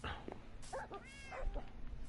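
Cat meows from the Minecraft video game (Bedrock edition on PS4), several short mewing calls spread across the clip over a faint background, with a person speaking partly over them.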